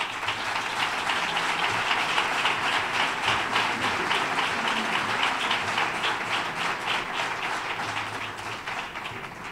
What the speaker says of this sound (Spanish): Recibamos con un aplauso a Antonio Cano